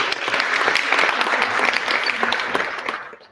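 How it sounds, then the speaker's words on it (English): An audience at a business pitch event breaks into loud, continuous applause, a thick wash of many hands clapping that holds steady and then fades at the very end, with no talking. "Round of applause for that, thank you."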